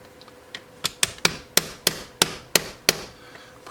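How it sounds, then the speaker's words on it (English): Small hammer pounding a metal pin into a Seeburg jukebox wallbox, about ten sharp, ringing taps in an uneven rhythm, growing louder after the first few, close and alone. "And then we just have to kind of pound this pin in."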